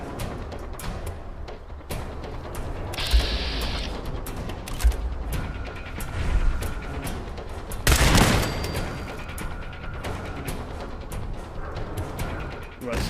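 In the video game Fallout 4, a big explosion booms out among bursts of gunfire and sharp shots, with a loud blast near the middle and rapid firing continuing around it.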